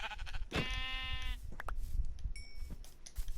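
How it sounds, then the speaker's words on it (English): Sheep bleating in the video game Minecraft: one loud, wavering bleat with a rich stack of harmonics, set against soft game ambience and a few short clicks. "Ooh, sheep."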